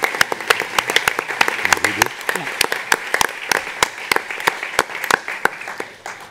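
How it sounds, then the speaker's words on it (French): Audience applause at a Palestinian young contemporary artists' festival event, a steady burst of many hands clapping sharply and densely for several seconds, fairly close, with no talk over it. "On l'applaudit quand même pour son résultat."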